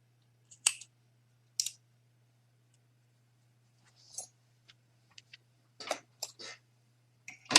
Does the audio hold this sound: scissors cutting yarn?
yes